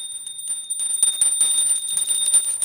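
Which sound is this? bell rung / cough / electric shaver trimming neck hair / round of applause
bell rung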